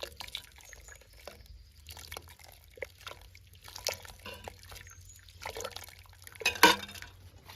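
Water splashes in small, uneven trickles and drips while goat tripe is scrubbed clean by hand, quiet and close, with brief louder splashes near the end and no voices.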